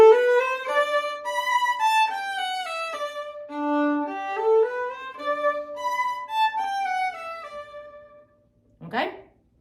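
A violin melody moves through a run of sustained, gently bowed notes, fading out before a brief final scrape.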